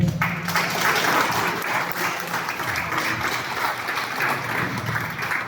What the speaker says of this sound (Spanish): Les aplauso más fuerte.